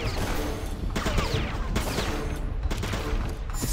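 A gun's alternate fire in the Darkest of Days shooter, set at Pompeii in 79 A.D., as a dense, continuous spray of shots with sharp cracks at intervals, heard over steady loud background noise.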